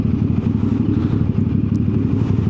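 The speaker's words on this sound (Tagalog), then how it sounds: "270 crank or crossplane engine, katunog siya ng R1." A CF Moto 450 SR-S motorcycle with a 270-degree crossplane crank parallel twin runs close by, its low, lumpy pulsing engine note steady and loud, with no talking over it.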